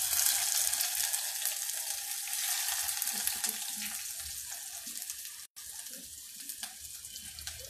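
Chopped curry leaves go into a hot pan for a Maharashtrian val vangyachi bhaji, giving a loud, continuous sizzling hiss with a brief break near the end and no talk.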